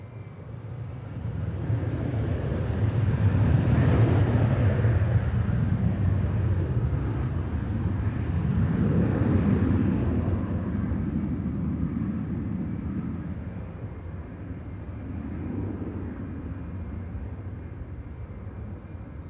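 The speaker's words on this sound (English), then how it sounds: "And here we go, pulling onto the runway. Qantas Flight 463, bound for Melbourne." Qantas airliner rolling onto the runway for a flight to Melbourne, a steady low engine rumble and roar that swells and fades in broad waves for about twenty seconds, with no talking.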